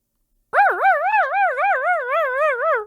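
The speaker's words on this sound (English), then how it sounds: "Those sounds give me the chills. They actually sound like a whining dog." A single drawn-out, wavering electronic whine from a skeleton decoration, like a whimpering dog, rising abruptly and warbling steadily for a couple of seconds, loud and close.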